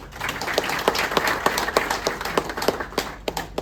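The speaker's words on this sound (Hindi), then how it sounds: "आपकी तालियों से ही आपका स्वागत करना चाहूंगा" Audience at a chairman's welcome event clapping in a sparse, uneven patter of distinct individual claps rather than a dense roar.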